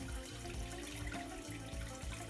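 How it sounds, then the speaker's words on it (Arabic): Rice being washed under running tap water, a steady close splashing stream with sloshing and swirling, no voices. "بتضلوا عم تغسلوا لحتى تصير المي شفافة"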